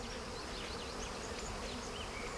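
A dense colony of bees clustered on a fully exposed open-air hive hums with a steady, close, continuous buzz, with individual insects droning in and out over the even mass of sound.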